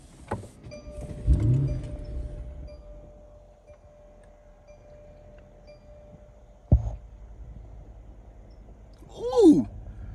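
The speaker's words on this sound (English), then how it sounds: "And behind, mirrors fold out, you know, push button start." Mercedes-Benz S-Class coupe side mirrors folding out electrically, a low motor hum with a faint steady whine, bracketed by soft clicks and a thump, heard quietly inside the car with a brief vocal sound near the end.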